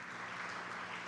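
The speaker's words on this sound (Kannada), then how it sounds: "ಮತ್ತೊಮ್ಮೆ ಜೋರ ಚಪ್ಪಾಳೆ ಬರಲಿ ಆ ಹಾಡಿಗಾಗಿ" Steady, dense applause from an event audience after a song at an electrical safety campaign programme, a continuous wash of many hands clapping at moderate, even loudness with no voices over it.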